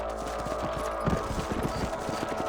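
Horse hooves clip-clop steadily on a ranch in Red Dead Redemption, a rapid rhythmic patter of hoofbeats at close range over a constant low rumble of game ambience.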